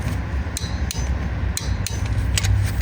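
A car wheel's lug nuts being tightened by hand with a torque wrench in a tire shop: a few sharp, close metallic clicks at uneven intervals over a steady low background hum.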